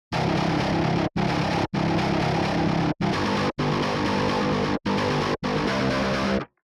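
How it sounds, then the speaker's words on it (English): A virtual guitar instrument in riff mode with a soft sustain articulation plays a repeating distorted riff, sustained chords broken by short, regular cuts, loud and alone. "So right now that was on soft sustain."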